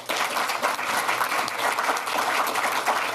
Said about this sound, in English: I think they probably deserve a round of applause